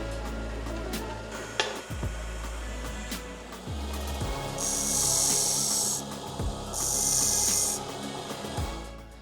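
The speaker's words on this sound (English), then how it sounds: "I'll be cutting off a 10mm thick piece of what I believe is 6061 aluminium bar" Sawing through a 10mm-thick slice of 6061 aluminium bar stock, a steady rasping cut with a few brief pauses and strokes restarting, close and fairly loud, growing harsher in two stretches near the end.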